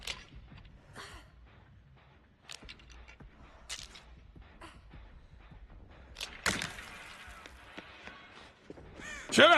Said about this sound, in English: Shut up, Crow.